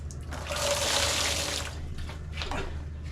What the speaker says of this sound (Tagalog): ang gagawin natin ay magta-transfer muna tayo ng tubig. Dito. Isang planggana